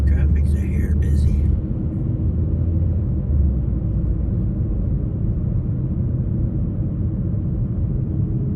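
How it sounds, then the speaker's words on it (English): Steady low road rumble from inside a car cruising through Vermont traffic, continuous and fairly loud, with a short burst of voice at the very start. "This traffic's a hair busy."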